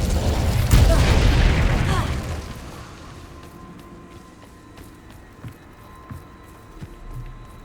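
A roaring whoosh of the Incendio fire spell from Hogwarts Legacy bursts loudly at the start and fades over about two seconds, followed by quieter footsteps and small impacts.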